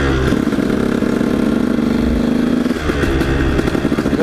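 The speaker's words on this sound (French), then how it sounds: "avec le son de la moto on m'entendra pas trop mal" A 150 SX motorcycle engine runs steadily while riding beside the water, loud and close throughout, with a sustained drone that shifts pitch partway through as the revs change.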